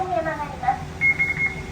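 Left turn signal tone from a Transtron truck voice warning system, a few short repeated electronic beeps in quick succession, faint, heard over engine hum and a voice.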